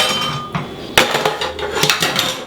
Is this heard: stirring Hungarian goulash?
yes